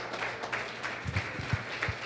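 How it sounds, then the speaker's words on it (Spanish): Applause from a standing church congregation, a diffuse wash of many hands clapping with a few louder claps and some low thumps, moderately distant in a reverberant worship hall. "Dele un aplauso al Padre,"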